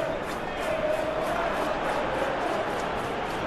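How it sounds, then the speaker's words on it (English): Dense, steady roar of a packed football stadium crowd at a Premier League match between Manchester City and Luton Town, voices blending into a loud continuous chorus with no single voice standing out. "This place is living up to its reputation as one of the noisiest corners of the footballing world. No decibels spared in this collective chorus."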